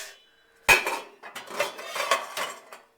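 Metal pans and pots clatter and clank as one is pulled from a cluttered kitchen stash of cookware and utensils, a sharp opening crash followed by a run of rattling knocks and scrapes, close and fairly loud with no talking.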